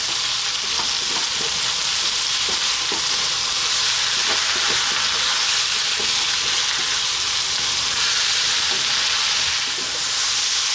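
Sliced mushrooms sizzle steadily in a hot pan over high heat for a potato mushroom curry, with scraping stir strokes from a spoon breaking through the continuous frying hiss.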